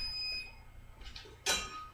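Kitchen timer going off while oatmeal cooks, heard as a short, faint electronic beep in a quiet room, followed by a brief louder clatter.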